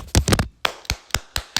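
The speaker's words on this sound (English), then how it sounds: "I'll give him a round of applause right now" One person claps alone in a short, uneven round of applause, about eight sharp, close hand claps with small gaps between them and no voices.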